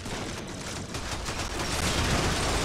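Sustained heavy automatic fire from a heavy gunner's Gorgon gun in the video game Warframe: a dense, continuous roar of rapid shots that swells slightly louder midway, with no talk over it.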